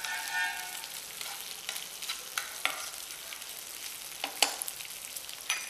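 Onion petals for chicken chili fry and sizzle in hot oil, a steady faint crackle broken by scattered sharper pops and stirring scrapes, with no one talking.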